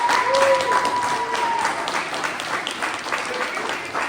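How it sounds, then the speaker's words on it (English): A crowd at a sword fighting festival cheers and applauds in a steady, dense wash of clapping and shouting that lasts throughout, with a thin whistle rising over it early on. "If you think Sean won, please make some noise for Sean"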